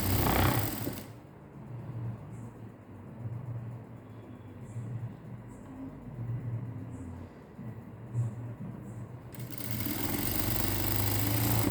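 A sewing machine stitches a synthetic blouse with piping, a steady fast whirring run lasting several seconds between quieter pauses, close and alone.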